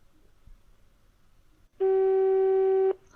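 A telephone call tone sounds once, a single steady electronic beep lasting about a second after a quiet stretch, loud and alone.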